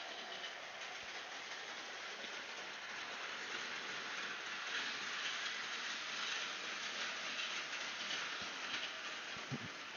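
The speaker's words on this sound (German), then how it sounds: "Lok rückwärts fahren lassen" A model railway locomotive runs along the track, heard as a faint, steady rushing and whirring hiss that holds constant for ten seconds, with a couple of small clicks near the end.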